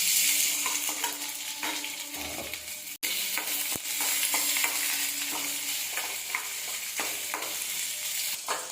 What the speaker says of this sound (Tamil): 2 வரமிளகாய் கிள்ளி போட்டுக்குவோம். ஒரு பாதி வெங்காயம் அரிஞ்சு வச்சுருக்கேன், அதை போட்டுக்கலாம்.